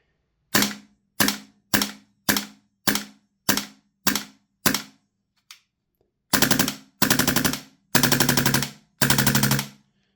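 A B&T GHM9-G gas blowback airsoft gun fires, first as eight sharp, evenly spaced single shots, then as four loud rapid-fire bursts, each a dense rattling string of cracks, close and clear with no talking.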